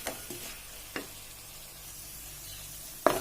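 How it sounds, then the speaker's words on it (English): Onions sautéing in a pan for mushroom masala give a quiet, continuous sizzle, broken by a few brief stirring scrapes near the start and a sharper clink at the end. "So I will just let these onions cook for some time."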